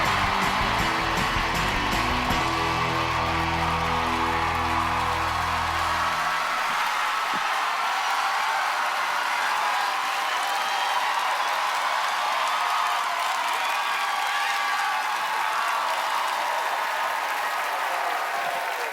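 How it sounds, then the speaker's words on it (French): Studio audience in a French-language television game show applauding as three mystery guests come out, sustained dense clapping at steady loudness throughout, with a brief low rumble of music or voices at the start. "les gens applaudissent des gens, puis vous savez pas c'est qui pantoute"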